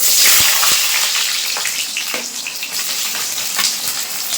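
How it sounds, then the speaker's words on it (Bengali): Sliced onions fry in hot mustard oil in a wok, giving a loud, close, continuous sizzle with a few clicks and scrapes as they are stirred, with no talking. "পেঁয়াজগুলো কিন্তু এভাবে একটু হালকা করে ভেজে নেব"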